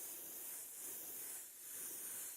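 Aerosol can spraying candy green paint over a stencil on a helmet: a continuous close, airy hiss that swells and dips slightly with the spray passes.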